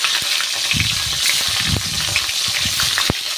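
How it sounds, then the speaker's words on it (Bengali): Nigella seeds and green chillies hit hot oil in a pan for a Bengali pabda fish curry, giving a steady close sizzle with a few clinks of stirring and no voices. "এবার তেল গরম হয়ে গেছে এবার আমি দেবো কালো জিরের ফোড়ন দেবো কাঁচা লঙ্কা দেব"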